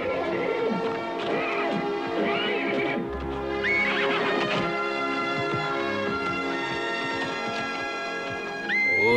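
A white horse neighs and whinnies loudly several times in the foreground, with some clip-clop of hooves and rustling movement between the calls, in a Western outdoor setting.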